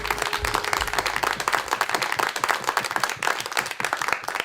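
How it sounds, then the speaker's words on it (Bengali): A reality-show audience gives the musicians loud, sustained applause, dense clapping from many hands that continues steadily throughout. "এবং মিউজিশিয়ানদের জন্য একটা জোরে হাততালি দেন সবাই।"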